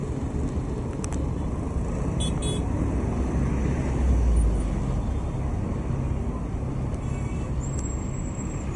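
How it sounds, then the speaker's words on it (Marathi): Jammed road traffic on a potholed Mumbai-area road: a continuous low engine rumble from idling cars and buses, with faint high horn tones drifting in from a distance. "पलीकडे ट्रॅफिक जाम होतं."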